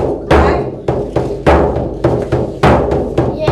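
A Hollywood western-style tom-tom rhythm played on a drum: a steady run of loud, close thumping beats with an accented pattern, several hits in quick succession over about three and a half seconds, with no talking.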